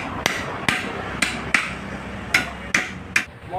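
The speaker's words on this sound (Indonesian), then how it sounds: "juga menggunakan palu, palu yang besar" Heavy hammer striking metal for a 2008 Yamaha Vixion supermoto conversion held in a vise, seven sharp ringing blows at an uneven steady pace, close and loud.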